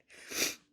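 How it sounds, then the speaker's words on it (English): A short, breathy sneeze-like burst, soft and close, rises and fades in under a second with no talking around it. "I cannot get rid of this sneeze."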